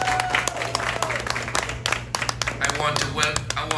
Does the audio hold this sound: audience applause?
yes